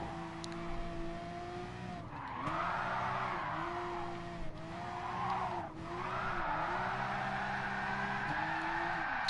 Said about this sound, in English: The Porsche don't want to drift on these tyres.